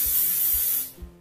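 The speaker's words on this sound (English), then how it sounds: "I'm going to take my hairspray and give that" A close, steady hiss of an aerosol hairspray can spraying for about a second, then stopping.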